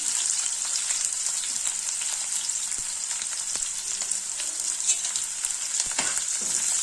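Onions and garam masala frying in hot oil in a pan, a steady close sizzle with scattered crackles and pops, no one talking.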